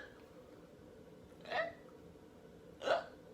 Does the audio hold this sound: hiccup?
yes